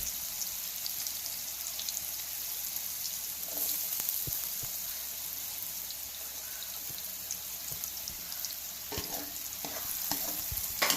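Coconut pieces fry in hot oil for parippu payasam and are stirred steadily, making a dense, continuous sizzle with scattered spatters and scraping stirs close by, and no talking.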